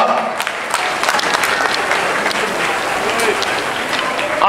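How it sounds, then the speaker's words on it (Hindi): Loud, sustained applause from a large audience at a Mumbra Shahar Sevabhavi Foundation event greets an arriving guest, dense steady clapping filling the whole stretch with voices mixed in. "जोरदार तालियों से उनका स्वागत हो।"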